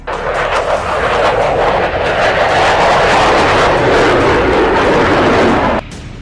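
Fighter jet roaring past as a sound effect, a loud continuous broadband engine rush that swells and holds for about six seconds, then cuts off abruptly near the end.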